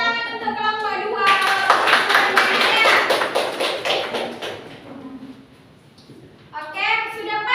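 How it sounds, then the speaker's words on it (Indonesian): Schoolchildren in a classroom clap in a rhythmic patterned cheer for a student group during a micro-teaching lesson, loud and close, with children's and a teacher's voices before and after, then a quiet pause. "Tepuk tangan untuk kelompok 2."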